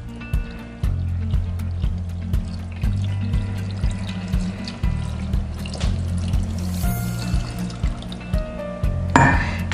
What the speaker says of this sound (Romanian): În principal pun zeama de la varză.